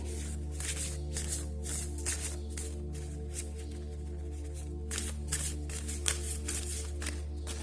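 Tarot cards are shuffled by hand in repeated soft riffling bursts over a constant low electrical hum, close and quiet, with no talking.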